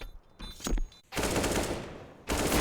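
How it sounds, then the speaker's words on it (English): Automatic AK rifle fire in a Counter-Strike match on the Nuke map, loud dense bursts of rapid shots, with a short pause between sprays. "Joel's just popping off with that AK, gets the double"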